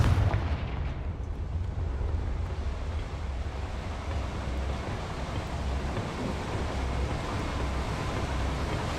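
Confringo fire spell blast in Hogwarts Legacy, a loud booming burst at the start that rolls into a long, steady roaring rumble with no talking.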